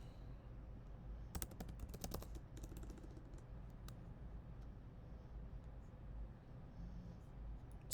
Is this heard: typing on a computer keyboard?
yes